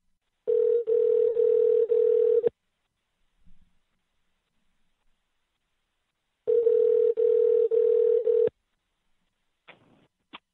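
A telephone line rings out while a radio host calls a guest, two long bursts of steady pulsing ring tone separated by a silent gap, followed by a faint click near the end.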